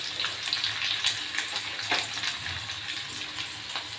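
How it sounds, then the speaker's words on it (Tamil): Onions and curry leaves fry in a pan with a steady, close sizzle and crackle, broken by occasional sharper pops and stirring scrapes throughout. "வெங்காயம் ஆட் பண்ணதுக்கப்புறம் அது கூட சேர்த்து கருவேப்பிலை ஆட் பண்ணிக்கணும் நல்லா வதங்க விட்டுறணும்"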